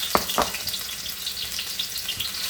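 Ginger frying in a pan gives a steady, close sizzle with crackling pops, plus a couple of sharp knocks early on.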